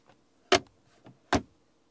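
Two firm, dull clicks of a storage compartment lid snapping shut inside a new AMG GLC 63 S, about a second apart, with a softer tap between them, close and clear in a quiet interior.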